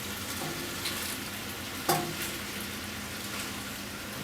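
Yakisoba with meat, carrots, onions and cabbage stir-frying in a pan, tossed with tongs: a steady, fairly quiet sizzle with one sharp clack of the tongs partway through, no voices.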